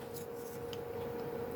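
Paper scraps being trimmed with a pair of scissors while making junk-journal cards with lace, a steady soft snipping and rubbing close by, with a faint tick near the end and no talk.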